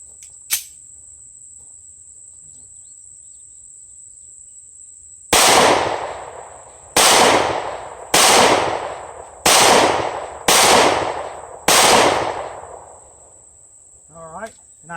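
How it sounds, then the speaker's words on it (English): A DiamondBack DB9 Gen4 pocket pistol fires six loud, close rounds in a quick, slightly uneven string outdoors, with a steady insect drone underneath and no talking. "So we'll put a few more rounds through it and just kind of see how it does."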